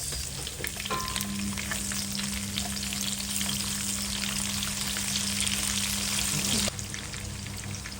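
Garlic and onion frying in a pan for a Filipino chicken curry, a dense continuous sizzle with crackling spatter, near and loud, holding steady for most of the stretch before easing slightly at the end.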